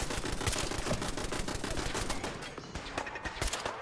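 A machine gun turret in Fallout 4 fires a sustained, rapid automatic stream, loud and close, the rattling barrage thinning slightly toward the end amid surrounding game noise.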